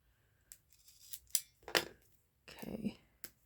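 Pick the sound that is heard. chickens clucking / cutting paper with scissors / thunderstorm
cutting paper with scissors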